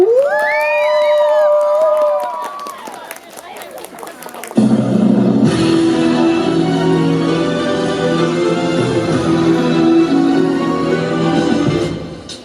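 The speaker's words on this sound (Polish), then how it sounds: "Jeszcze raz brawa!" Audience at an anime cosplay convention cheering and shouting for a Hetalia costume performer, a loud mixed crowd roar with whoops that swells after a brief lull, with voices calling out over it.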